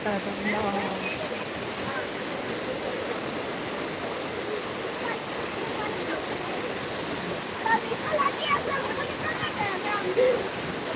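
A waterfall where people are bathing roars steadily and loudly throughout, a constant rushing wash, with faint voices now and then in the background.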